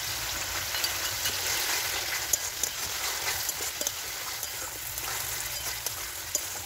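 Peas hissing and sizzling in spiced oil in a pan, a steady close frying crackle with small pops throughout.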